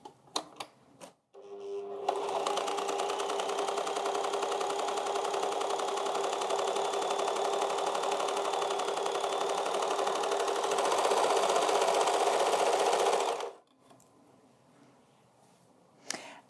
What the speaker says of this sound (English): let's just have a look at how the amazing differential feed works with our standard foot to create a really beautiful gather